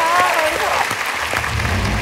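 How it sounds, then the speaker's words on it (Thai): A studio audience at a game show claps in a burst of applause, fairly loud and sustained, mixed with a voice speaking over it. "ขอเสียงปรบมือให้คุณพลอยด้วยครับ"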